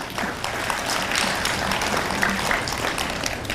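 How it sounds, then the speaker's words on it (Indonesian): Audience applause for an Ustaz at a religious gathering at Universiti Islam Sultan Syarif Ali in Brunei Darussalam, a steady wash of many hands clapping throughout, moderately loud with room murmur underneath. "Aplaus untuk Ustaz."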